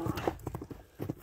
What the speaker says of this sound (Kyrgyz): азыр атты айландыра да бир чабып көрөлү